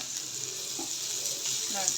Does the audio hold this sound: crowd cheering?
no